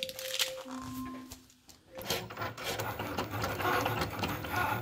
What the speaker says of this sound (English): just cutting out my Infusible Ink Transfer sheet with my Cricut Maker